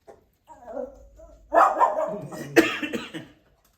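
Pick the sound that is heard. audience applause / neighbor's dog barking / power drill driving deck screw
neighbor's dog barking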